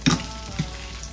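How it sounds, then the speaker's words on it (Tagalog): Brief crackling sizzle of anchovies frying in hot oil, with a couple of small pops and stirring noises, fairly close and quiet. "ma-prito itong dilis"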